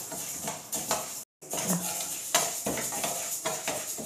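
Chana dal dry roasting in a pan for idli podi, heard as close clattering and scraping of a spoon against the pan with scattered tapping, a brief dropout midway, no talk.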